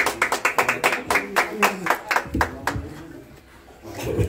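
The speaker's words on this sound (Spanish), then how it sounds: "fuerte el aplauso, bien bonito, para María Chibonín" Audience applause at a mariachi birthday performance, with a burst of rhythmic hand claps for roughly two and a half seconds that then fades out.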